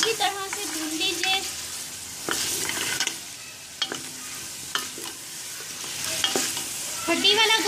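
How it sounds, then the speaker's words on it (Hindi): Bone-in meat frying with ginger garlic paste for Punjabi aloo gosht, a steady soft sizzle with repeated clinks and scrapes of a spoon stirring in the pot, fairly faint and close. "गोश्त जिंजर गार्लिक पेस्ट के साथ फ्राई हो रहा है"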